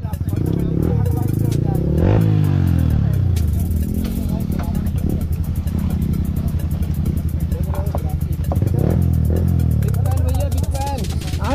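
A motorbike engine idles and revs close by at a photoshoot spot in Patratu valley, with rising and falling engine tones and clatter under excited talk throughout.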